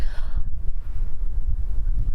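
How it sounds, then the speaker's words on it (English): Low, rumbling wind buffeting close by in a garden in winter, a steady gusty roar with no other sounds. "right now it's all blowy and windy"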